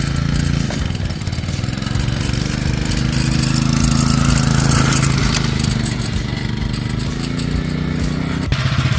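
A homemade drift trike's small engine runs steadily at close range, a loud continuous buzzing drone with a slight rise in pitch midway and a brief change near the end.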